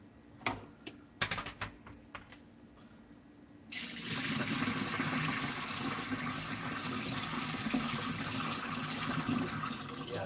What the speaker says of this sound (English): Water is already running much clearer